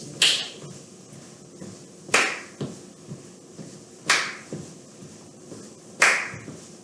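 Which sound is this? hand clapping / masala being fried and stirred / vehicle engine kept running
hand clapping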